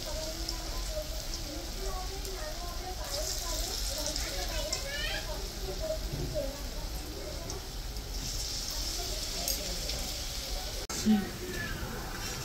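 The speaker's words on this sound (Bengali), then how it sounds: "এখন ফুলকপির বড়াটা ভেজে নিতে হচ্ছে।" Cauliflower fritters frying in oil produce a steady, rain-like sizzling hiss that runs the whole length, fairly quiet, with voices talking over it.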